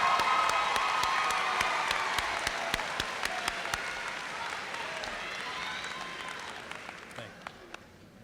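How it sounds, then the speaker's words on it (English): Graduation ceremony audience applauds at a high school commencement: dense clapping from a large crowd with a few cheers, fading gradually and thinning to scattered claps. "Please a round of applause for all of his hard work the last 2 years."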